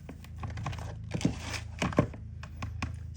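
Scissors snip a smidge off a paper file folder up close, giving a quick series of crisp cuts and crinkles with small papery clicks.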